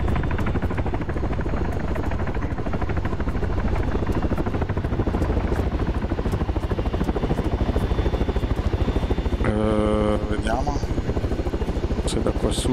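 A helicopter in the video game ARMA 3 thrums continuously and loudly with rapid rotor pulses throughout, while people talk over it and a brief tonal beeping sound cuts in near the end.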